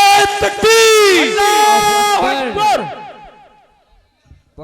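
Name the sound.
crowd chanting in response to a Takbir slogan call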